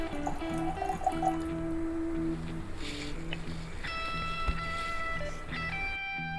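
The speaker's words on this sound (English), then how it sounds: "we're gonna pour it up and let you know what we think about it" Bourbon whiskey, a Georgia straight single barrel, being poured into a Glencairn glass, with steady liquid dripping and filling sounds, light clinks and tonal ringing, heard close and moderately quiet with no talking.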